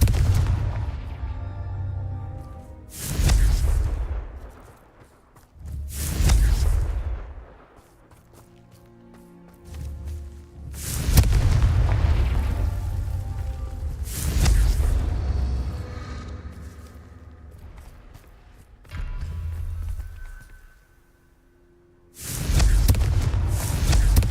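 Repeated Confringo fire-spell blasts in the Hogwarts Legacy video game, several loud booming explosions with long decaying tails, spaced a few seconds apart, with no voices over them.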